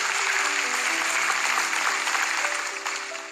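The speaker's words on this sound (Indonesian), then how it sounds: "Kasih tepuk tangan untuk Tuhan." Congregation clapping at an Indonesian church service, a dense sustained wash of applause with faint tonal music underneath, fading slightly toward the end.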